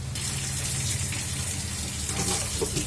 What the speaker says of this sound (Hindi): तो पानी हमने 1 गिलास लिया है, ये डालेंगे।